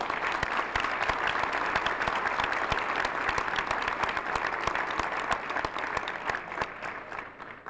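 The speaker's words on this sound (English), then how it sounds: "May I hear applause for those two wonderful people." A crowd at a New York Sports Hall of Fame ceremony applauds steadily, a dense, even roar of many hands with a few crisp nearby claps standing out, holding strong before easing slightly at the end.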